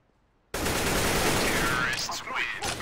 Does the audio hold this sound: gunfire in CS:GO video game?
yes